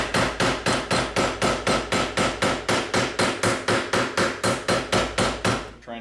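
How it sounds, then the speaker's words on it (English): Sheet metal is hammered flat against a form block while forming an aircraft rear rib, a fast, even run of about twenty crisp, close strikes with slight ringing and no talking. "I'll go ahead and finish hammering this flat against the form block."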